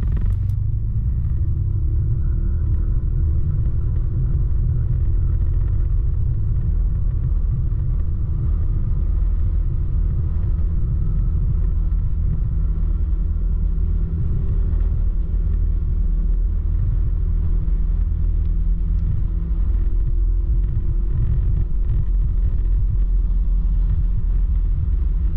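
A car drives along a road in Hesse, Germany, its steady low engine rumble and tyre roar continuous and close throughout, with no talking.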